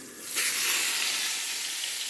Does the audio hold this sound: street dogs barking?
no